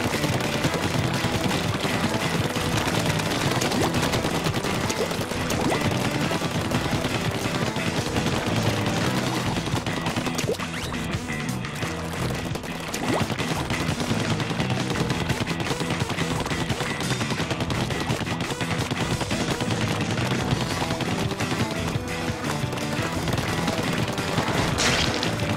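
Splatoon video game battle with dense, continuous bursts of gunfire and bomb blasts, loud and unbroken, packed into a busy game mix with no talking.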